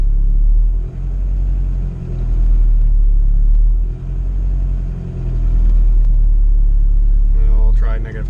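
A built turbo Honda B18C1 engine in an EG GSR hatchback idles with a deep, steady rumble that dips and recovers a few times as the idle air control is adjusted, with someone talking over it.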